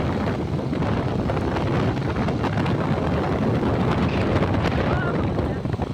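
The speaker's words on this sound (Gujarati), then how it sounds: "આમ જોજો, આ પવન આવી રહ્યો છે" Strong outdoor wind batters the microphone in a loud, continuous roar that holds steady for about six seconds.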